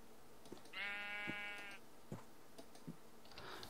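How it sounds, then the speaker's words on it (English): A single wavering sheep bleat rings out in Minecraft, faint and about a second long, with soft scattered clicks of game activity before and after. "So that sheep has got out."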